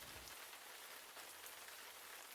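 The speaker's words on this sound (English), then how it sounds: "It rained and rained" Rain from a storm patters in a steady, even hiss, soft and unbroken, with no voices heard.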